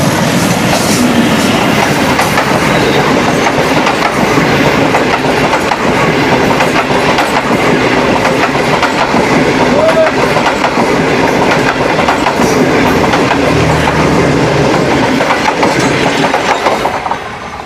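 A Pakistan Railways train rolls along the rails, loud and close, with steady clickety-clack from the wheels and a constant rumbling roar throughout.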